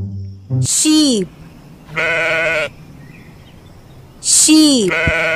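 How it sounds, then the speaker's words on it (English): Sheep bleat in loud, wavering calls, several separate bleats spaced a second or two apart and heard up close. A voice also speaks briefly between the calls. "Sheep."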